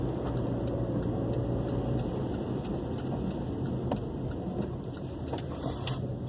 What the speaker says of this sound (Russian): Сзади меня здоровая машина едет.